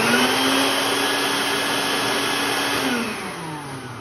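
A Craftsman 5-gallon wet/dry bucket vac powerhead runs loud and steady with a broad rushing whine, then drops in level near the end as the motor begins to wind down.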